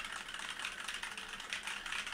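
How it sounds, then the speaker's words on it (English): Keys clicking on a small wireless keyboard, a quick, irregular run of light taps at close range with no talking. "just to show you that the typing works on this small keyboard that I have right here"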